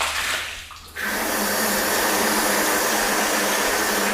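A hose stream rinses a ceramic-coated car panel: a brief drop in level, then a loud, steady hiss and splash of water running off the surface, close to the listener and with no talking.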